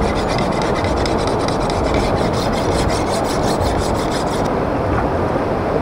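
A bolo machete is sharpened on a stone by a river, producing a continuous loud, gritty rasping scrape close by, with faint rhythmic strokes and flowing water beneath and no talk.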